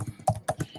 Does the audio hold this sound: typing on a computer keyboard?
yes